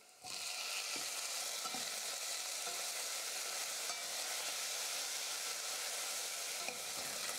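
A large cut tomato sautéing in a pan for cabbage sambar: a steady, dense sizzle sets in almost at once and holds evenly throughout, with faint occasional stirring taps and no voices.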